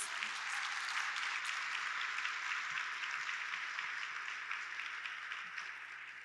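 A large conference audience at a Prader-Willi syndrome gathering applauds in a dense, steady wash of clapping that carries evenly for several seconds and eases slightly toward the end.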